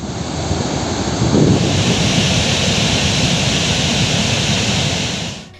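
Monsoon waterfalls in Mulugu and Jayashankar Bhupalpally districts of Telangana gushing after heavy rain, a loud steady broadband roar of rushing water that holds throughout, then fades out at the end.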